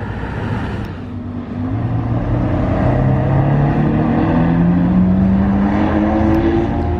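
A Ferrari 458 Aperta sports car engine revs up close, a loud throaty roar dipping briefly, then climbing and holding high revs for several seconds with no talk over it.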